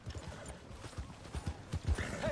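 Horse hooves clip-clop in an irregular trotting rhythm in Red Dead Redemption 2, with a brief snort or whinny near the end, all fairly close and moderately loud over light game ambience.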